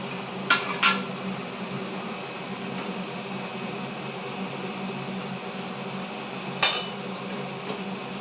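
A pot of Bengali fish curry is lifted off the stove and emptied, with a couple of sharp metal clanks near the start and another near the end over a steady background hum.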